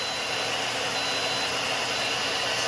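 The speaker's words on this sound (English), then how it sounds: "All right, we're gonna go to this hair dryer." A hair dryer powered through a Powerjack 12000 low frequency inverter runs as a loud, steady broadband whoosh with an even motor hum, unbroken throughout.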